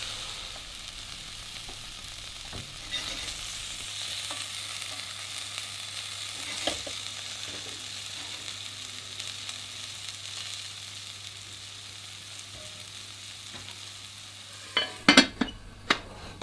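Vegetables in a covered pot over medium-low heat, cooking in their own moisture, give a soft, steady sizzle and hiss throughout, with a few sharp clinks near the end.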